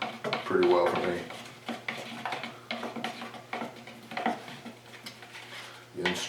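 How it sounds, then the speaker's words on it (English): A stick or tool stirs thinned latex paint in a container for an HVLP paint gun, making repeated scraping and knocking strokes, with someone talking throughout. "Again, stir it up real well."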